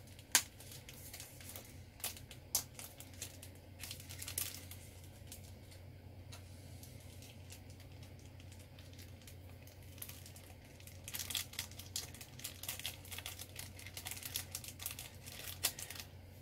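A plastic bag of glitter is pulled open by hand, giving quiet, close crinkling and rustling with a few sharper crackles scattered through, and no talking.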